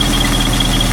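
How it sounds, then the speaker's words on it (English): Car engine fitted with a Weber carburetor idles on its mechanical fuel pump with the electric choke still engaged, a steady, close, even drone with a faint high whine and no talk. "now we're idling on the mechanical fuel pump"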